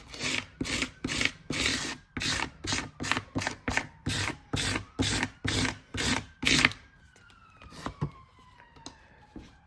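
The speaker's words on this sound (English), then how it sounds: "I'm scraping off the excess" Excess grout is scraped off mosaic tiles in a quick, even series of about a dozen close, harsh rasping strokes. The scraping then stops, and a faint siren wails in the distance.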